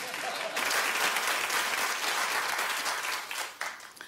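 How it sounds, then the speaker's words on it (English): A television talk show studio audience bursts into loud, dense applause that builds quickly, holds steady and then tapers off near the end. "People on Facebook hate when you clap"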